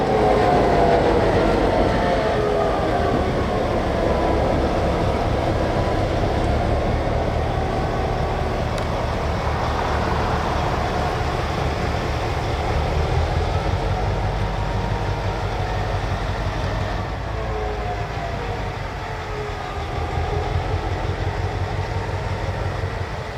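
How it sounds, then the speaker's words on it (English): Housatonic Railroad freight locomotive on the NX10 train shoves back to couple onto its remaining cars, a steady loud engine rumble with rolling wheel and rail noise and faint metallic squeals, sustained for over twenty seconds without talk. "Once ahead of the switch, the NX10 shoves back to tie onto what remains of its once 25-car train."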